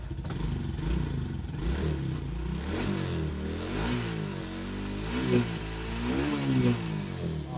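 A motorcycle engine idling and revving during a charging-system check after a stock regulator and wiring job, with pitch sweeping up and down in repeated throttle blips, steady and close, with some voices in the background.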